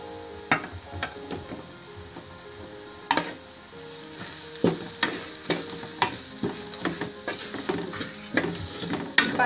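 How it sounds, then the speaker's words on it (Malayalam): Chicken curry with garam masala being stirred and sautéed in a pan: steady frying sizzle under repeated sharp scrapes and clinks of a spoon against the pan, close and moderately loud, with no talking. "ഇനി നമുക്ക് നല്ലപോലെ ഇതൊന്ന് വഴറ്റി കൊടുക്കാം കേട്ടോ"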